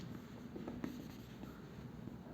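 Pen or marker writing out a chemistry rate equation by hand, faint scratching strokes with a few light taps, heard close and alone against a low steady background hum.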